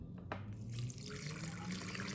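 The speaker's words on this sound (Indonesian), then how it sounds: "ini kita saring juga ya santannya." Coconut milk being strained for a traditional Banjarmasin bingka cake batter, giving a steady, continuous liquid trickle and pour that carries on throughout at low volume, with no speech.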